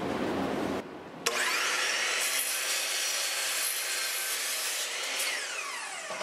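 A power saw rips steadily through a wood board, a loud continuous whining cut that starts after a short pause and holds for several seconds before stopping abruptly.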